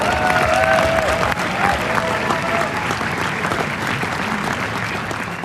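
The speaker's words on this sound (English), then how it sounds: "at least half of the audience standing up to applaud him" A large audience applauds Jeremy Corbyn's speech, many of them standing. Thick, sustained clapping fills the hall from start to finish and eases slightly toward the end.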